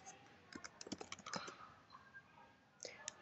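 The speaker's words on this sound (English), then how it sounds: "So I'm typing in my first name." A name typed on a computer keyboard, a quick burst of close, quiet key clicks, a short pause, then a few final taps.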